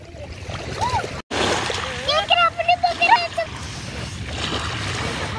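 Children splash and play in sea water while bathing at the beach, with lively splashes close by and kids' voices calling and chattering over the waves.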